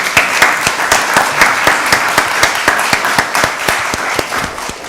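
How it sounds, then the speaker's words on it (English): A council-chamber audience at a county board of commissioners meeting applauds library staff: steady, loud, close clapping of many hands that holds for the full stretch, with no talk over it. "let's just give them a round of applause"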